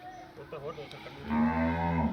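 A Jersey-Sahiwal cross dairy cow on a Pakistani farm gives one loud, close, drawn-out moo in the second half, after a brief quieter lowing sound; no one speaks.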